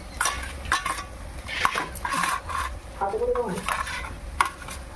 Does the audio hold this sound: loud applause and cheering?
no